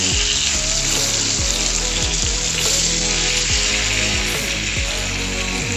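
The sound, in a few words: rohu fish frying in a pan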